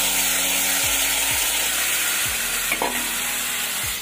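Hog plums stirred in a hot wok with panch phoron, salt and a splash of water, giving a steady close sizzle of frying with several soft scraping strokes of the spatula. No voices.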